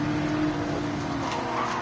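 A race car engine roars at a sustained high pitch through a Dragon Trail Gardens track in a sim racing league event, with a faint tire squeal layered under the steady loud drone and no voices.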